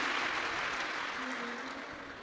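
Audience applause welcoming the chief guests at a Shiv Mahapuran katha in Dantewada, Chhattisgarh: a short, steady burst of dense clapping from a large gathering, with faint voices underneath.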